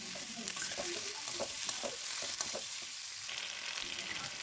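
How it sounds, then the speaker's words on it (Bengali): Fried potatoes and fish heads being stir-fried with onions, a steady sizzle under repeated scrapes and knocks of a spoon working the pan, without speech. "এখন আমি ভেজে রাখা আলু আর মাছগুলো দিয়ে দিলাম, দিয়ে এই পেঁয়াজ আলুর সঙ্গে আবার একটু সুন্দর করে কষিয়ে নেব"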